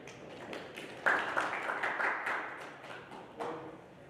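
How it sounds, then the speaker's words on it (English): An audience's round of applause welcoming a speaker at an engineering conference session, a modest room of clapping swelling in, holding steady and then tapering off. "Please give a welcoming round of applause"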